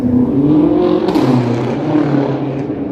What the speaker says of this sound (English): Your car's not supposed to sound like that there, dingus.